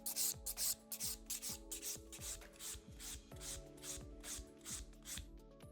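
A nail file rasps rhythmically across an extra-long sculpted hybrid gel nail in steady, quick back-and-forth strokes, close and fairly quiet.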